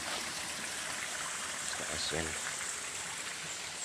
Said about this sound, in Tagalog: Sapa guys.